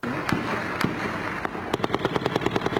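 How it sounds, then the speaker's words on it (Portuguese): A rapid series of sharp bangs and pops from gunfire and explosions during a pre-dawn robbery, loud and close, with several blasts early and a quicker run of cracks toward the end over a rumbling background. "O assalto foi na madrugada de hoje e assustou os moradores com tiros e explosões."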